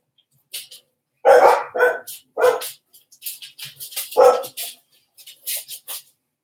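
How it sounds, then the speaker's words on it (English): Dogs bark in a series of sharp, loud bursts, some doubled and some single, with short gaps of quiet between them and a few higher yips mixed in, close by and without talk. "Bloody dogs."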